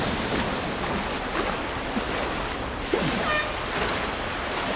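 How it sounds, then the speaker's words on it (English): Water rushing and splashing around a canoe slalom boat on a London whitewater course in the London 2012 Olympic Games video game, a steady broadband wash with small splashes and no talk. "Got to keep the boat above water through this upstream gate."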